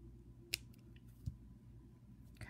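A single crisp snip as wire cutters trim a jewelry wire tail while making earrings, a short near click against a quiet room, followed by faint handling sounds.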